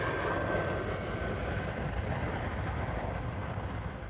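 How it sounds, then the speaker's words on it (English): A C-5 Galaxy, a huge military transport aircraft, lands with a loud, steady broadband jet roar that holds constant throughout without a break. "peaking with the landing of a C-5 Galaxy, the world's largest aircraft."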